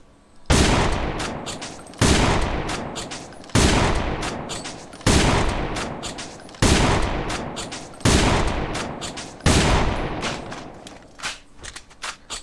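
A DSR-1 Dreamcatcher sniper rifle in the game AVA fires at short range. Seven loud, sharp single shots come at a steady pace about every one and a half seconds, each with a decaying echo tail.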